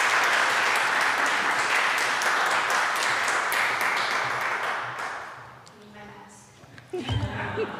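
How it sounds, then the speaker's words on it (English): Loud, full audience applause for a generous donor at a gift event, steady for about five seconds before thinning out and fading, with a voice starting to speak at the end. "let's give another round of applause for our generous donor"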